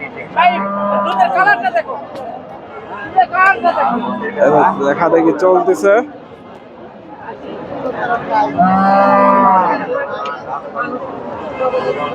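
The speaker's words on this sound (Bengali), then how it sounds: "মোটামুটি সুন্দর একটা গাভি" Friesian cross dairy cows moo in long, loud calls at a busy cattle market in Rajshahi or Bogura, with crowd chatter and people talking throughout.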